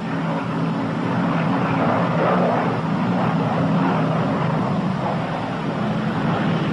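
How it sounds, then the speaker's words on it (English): A P-61 Black Widow World War II night fighter touches down with three-quarter flaps, its engines a steady, loud, unbroken roar from start to finish. "That was a landing with three-quarter flaps."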